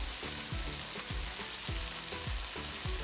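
Chicken and bok choy sauté with soy sauce in a hot pan, sizzling steadily and loudly while the food is stirred in a regular rhythm of scraping strokes.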